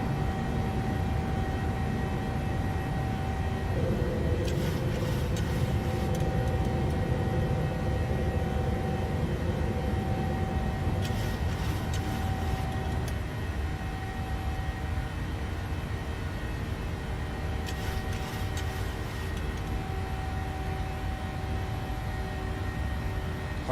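Jet engines of a PMDG 737-800 airliner at climb power in a flight simulator, a steady loud roar and hiss with a sustained tonal whine that runs unbroken throughout.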